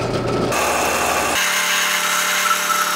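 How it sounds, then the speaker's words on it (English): A power drill bores holes in a metal mount for Grom forward controls, giving a steady, loud whine close by that shifts pitch twice as the bit loads and frees up, running continuously with no voices. "Let's go ahead and drill some stuff"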